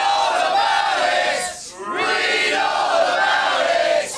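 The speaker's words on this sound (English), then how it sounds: "Joy, I can hear a cry, ladies and gentlemen." A TV studio audience at a breakfast show lets out a loud sustained group cry and cheer, swelling, dipping briefly midway, then rising again, close and dense.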